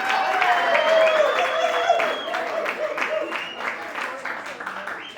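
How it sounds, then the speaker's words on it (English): Audience clapping at a crypto meetup in San Juan, a moderate burst of applause that gradually thins out while a voice carries on over it. "Let me get a round of applause, please."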